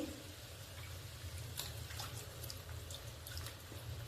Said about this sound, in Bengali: একটু জল অ্যাড করে দিলাম